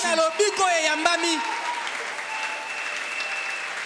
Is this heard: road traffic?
no